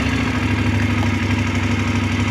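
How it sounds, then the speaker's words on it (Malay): Voge DS900X adventure motorcycle idling after a firmware update, a steady, even low engine hum with a constant throbbing rumble, close and continuous with no voices. "Jadi jom kita cuba start enjin motor, tengok macam mana selepas update dengan version terbaru."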